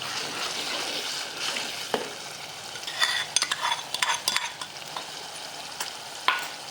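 Ginger-garlic paste sizzles steadily in a hot pan for a roasted eggplant sabzi, with the fry crackling close and loud throughout and a few clinks of a spoon stirring near the middle and end.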